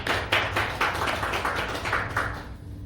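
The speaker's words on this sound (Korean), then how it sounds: "우리 하나님께 영광의 박수 올려드립시다." Congregation clapping in a church service, rhythmic claps in a roughly steady beat, fairly close and full, with a low hum beneath.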